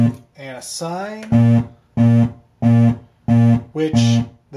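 A Wave Pulse Animator synth module plays a sine wave that clips and cuts off. After a short warbling sweep, it sounds as about five loud, evenly spaced pulsing bursts.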